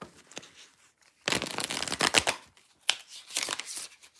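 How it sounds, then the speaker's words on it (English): A deck of tarot cards being shuffled by hand, two close, crisp bursts of riffling separated by short pauses, heard alone without talk. "I want to give that another shuffle."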